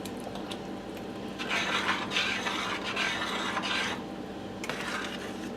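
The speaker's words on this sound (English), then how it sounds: "Stir it around." A spoon stirs vegetarian chili in a pot after a few dashes of Worcestershire sauce, making scraping, rasping strokes in several bursts with short pauses between them.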